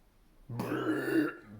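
A voice imitates a giant Goliath letting out a large burp: one sustained, low, gurgling belch of about three-quarters of a second, loud and close, with no other sound around it.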